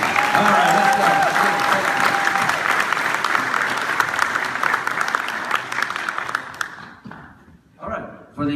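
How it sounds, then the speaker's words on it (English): Audience applause at a military town hall award ceremony, a loud sustained burst of clapping with cheering that fades out near the end before a short final flurry. "let's get another round of applause"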